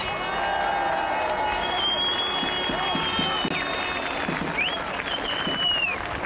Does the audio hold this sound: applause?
yes